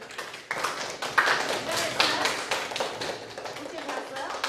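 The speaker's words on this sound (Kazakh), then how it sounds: "Қол шапалақтауға қойылды" Scattered clapping from a group, uneven and a bit thin, with voices mixed in beneath the claps.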